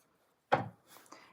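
A deck of tarot cards being shuffled, one sharp riffling burst followed by a softer, quieter second pass, close up in a quiet room.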